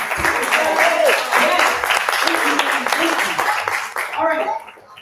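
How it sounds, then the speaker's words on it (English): A crowd at a Busboys and Poets restaurant event applauds the service staff, dense steady clapping that fills the room, with voices and cheers mixed in before it fades out near the end. "let's give them a round of applause,"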